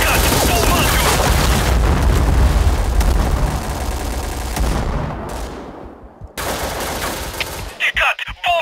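Gunfire and blasts from the online shooter game Point Blank, with a grenade thrown and exploding amid dense, loud continuous shooting that briefly drops away before resuming with sharp bursts.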